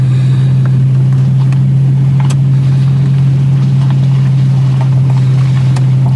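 A car rolls slowly through the Lakewood South cemetery in Jackson, its engine a steady low hum that stays constant throughout, with a few faint clicks and rattles on top and no talking.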